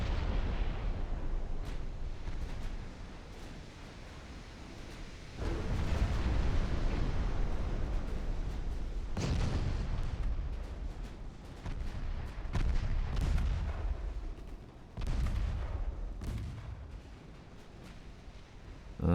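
The 11-inch naval guns of a 1917 warship fire in Ultimate Admiral: Dreadnoughts, heavy booms landing at irregular intervals over a low, rumbling battle backdrop. Each salvo is deep and loud, and there is no talk.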